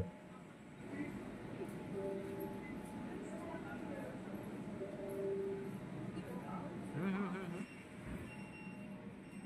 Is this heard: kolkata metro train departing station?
yes